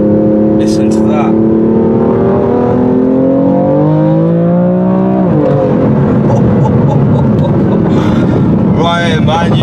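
A 565 bhp BMW M4 with a very loud aftermarket exhaust in sport mode rumbles and rises in a long, loud rev, then drops back, with wind buffeting and a voice breaking in near the end.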